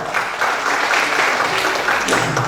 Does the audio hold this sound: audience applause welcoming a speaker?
yes